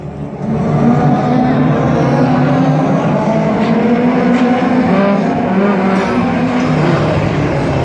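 Race cars running a heat at Ringwood Raceway, their engines holding a loud, steady droning roar throughout as the pack runs single file through the turns.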